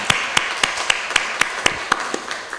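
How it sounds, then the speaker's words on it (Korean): A church congregation claps together in a steady, regular rhythm of sharp, evenly spaced claps, fairly close and continuous, with no talking over it. "하느님께 영광의 박수 올려드리도록 하겠습니다"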